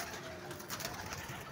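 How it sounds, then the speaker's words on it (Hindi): Pigeons, three females and two males, coo softly on a rooftop, a low, rounded, continuous murmur with no talking. "ये कबूतर है"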